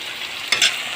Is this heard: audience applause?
no